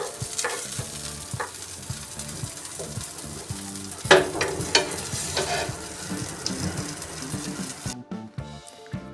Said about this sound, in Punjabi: ਬਾਕੀ ਦੇ ਬਚੇ ਹੋਏ ਬੈਂਗਣ ਵੀ ਆਪਾਂ ਫਰਾਈ ਕਰਕੇ ਤਿਆਰ ਕਰਦੇ ਹਾਂ